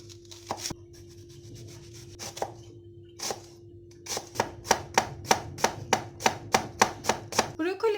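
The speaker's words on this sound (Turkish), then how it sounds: "Soğanları ince ince doğrayalım." A knife knocks on a board a few times, then settles into a fast, even run of close chopping strokes against a low hum.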